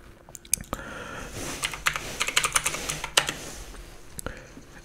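A computer keyboard clatters with a quick run of close, crisp keystrokes, starting with a few taps and then a dense burst before trailing off.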